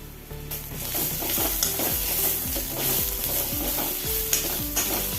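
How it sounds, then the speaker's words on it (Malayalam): Chopped onion sizzles in oil in a pan while being stirred, the spoon scraping in a steady repeating rhythm under a constant close frying hiss, with no talking. "ഇനി അരിഞ്ഞ് വെച്ച ഉള്ളി വെച്ച് കൊടുക്കുക ഉള്ളി ഒന്ന് വാടി വന്ന്"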